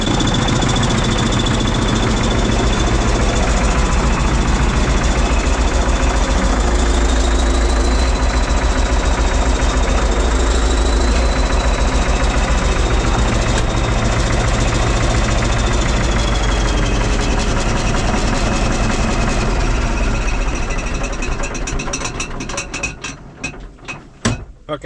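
A bulldozer's pony motor runs steadily with a mechanical, ratcheting rattle and a whining gear tone, loud and close, before the noise breaks into scattered knocks near the end.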